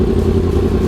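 A motorcycle exhaust gives a brief, loud, steady low roar, close by, with no talking.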